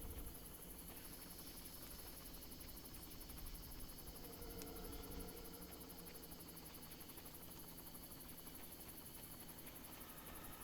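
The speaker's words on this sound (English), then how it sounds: "Helicopter?" Helicopter in the Far Cry video game, a steady rotor thrum and engine whine, moderately loud and continuous throughout without talk.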